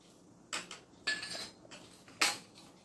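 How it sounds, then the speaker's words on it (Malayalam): Chana dal dropped into hot coconut oil in a pan, heard as three short bright clattering bursts as the lentils hit the metal, each followed by a brief fizzing tail, with no voices. "ആദ്യം കടലപ്പരിപ്പ് ഇടുക."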